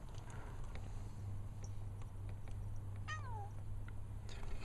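A house cat meows once, a clear rising-falling call near the middle, over a low steady hum in a garage where a cabin air filter is being replaced on a 2000-2004 Subaru Outback; soft clicks and shuffles scatter around it.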